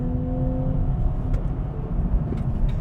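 Nissan Z Nismo 2025 engine running in Sport Plus mode, a steady loud drone with a low throbbing rumble, heard from inside the car without talk.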